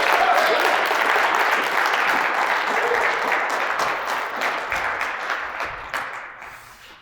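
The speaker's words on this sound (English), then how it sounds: "I'm going to need a better applause than that" A large audience at a speech applauds in a continuous, dense wash of clapping that gradually fades toward the end, with no talking over it.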